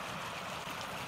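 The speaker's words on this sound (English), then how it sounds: "show you this little stream that comes out of that waterfall" Small stream flowing out of a waterfall at Little Canyon Creek Falls, a steady, close rushing and trickling of water that holds even throughout.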